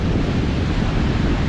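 Sea waves rolling onto Agonda Beach in South Goa, a loud, continuous surf roar close to the microphone, heavy with wind buffeting and no voices.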